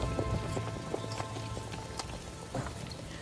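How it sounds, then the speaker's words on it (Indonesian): Heavy rain in a jungle film scene, a steady dense patter of drops on surfaces with a few sharper taps, continuous and fairly close. "meskipun tanpa diduga mulai turun hujan lebat"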